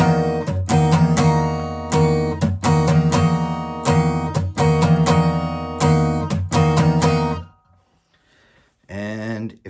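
Acoustic guitar strummed in rhythmic chords with a ringing low open string, then a pause and a final chord rings out.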